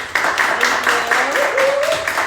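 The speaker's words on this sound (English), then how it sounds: "Give a round of applause for our speakers." Audience applause for panel speakers at a community conversation event: a steady wash of clapping that holds evenly across the clip at a moderate level.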